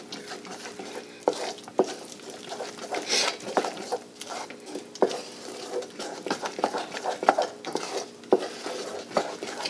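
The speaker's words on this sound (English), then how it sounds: "Okay, and I'm going to stir that in." A spoon stirring shredded cheddar and Italian cheese into grits in a pot, repeated scraping and clinking of metal on the pot with soft thick mixing sounds, close and steady.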